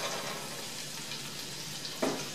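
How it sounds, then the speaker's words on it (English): Sliced mushrooms drop into melted butter in a pan on medium-high heat and fry with a soft, steady sizzle, with a brief stirring clatter near the end. "Butter's melted, in go the mushrooms."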